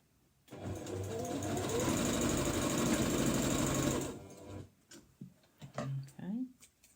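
A sewing machine stitches across a box bag in a loud, steady run of rapid ticking for about three and a half seconds. It then stops, and a person talks afterward.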